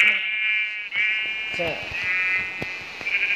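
A Minecraft sheep bleats in a long, wavering, high-pitched call, heard clearly with game sounds around it, followed by a person speaking briefly.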